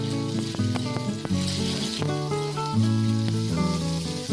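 Pumpkin, potato and squash drop into hot oil already tempered with bay leaf and whole spices, for a Bengali vegetable ghet, giving a steady close sizzle beneath continuous background music.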